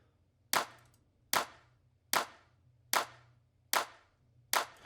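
A single clap sample with its low end cut by EQ, struck six times at a steady, even pace. Each hit is bright and sharp, decays quickly, and sits alone over a faint low hum.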